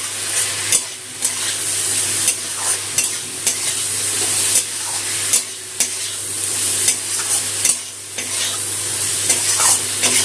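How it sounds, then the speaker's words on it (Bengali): Ground spice paste frying with potatoes in a pan, a continuous close sizzle broken by regular scraping stirs of the spatula against the pan. "এখন এই সব মশলাগুলো দিয়ে বাটা মশলাটা দিয়ে আলুর সাথে কষিয়ে দেবো।"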